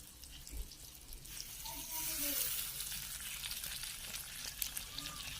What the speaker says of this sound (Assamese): চয়াবিনকেইটা ভালদৰে ভাজি ল'ম